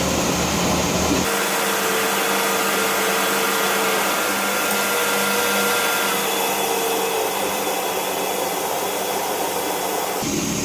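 The heater blower of a Chrysler 300M runs on high, making a loud, steady airy roar that barely changes across the whole stretch.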